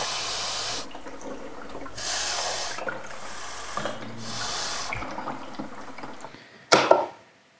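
Water pours in bursts into the front-access water tank of a Sage Oracle Touch coffee machine, several rushing fills separated by short pauses, close and fairly loud, with a sharp splash or clunk near the end.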